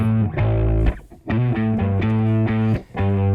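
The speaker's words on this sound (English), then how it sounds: "I'll go ahead and do this while listening to the distorted amp signal" A distorted bass amp signal under heavy compression plays a gritty, buzzing line of sustained notes with short breaks between them, loud and alone.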